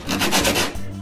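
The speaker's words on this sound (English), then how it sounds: "So I'm just gonna give this a quick sand." Quick sanding of a drift car's bumper ahead of a fiberglass repair: a close, steady abrasive rubbing that continues for about a second, with no talk over it.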